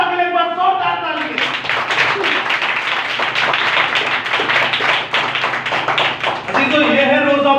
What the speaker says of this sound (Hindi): जिंदा खुदा के लिए बस जोरदार ताली।